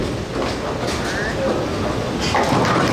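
Bowling ball rolling down the lane toward the pins in a youth bowling tournament, a continuous low rumble building slightly over three seconds beneath a busy alley's background noise and voices.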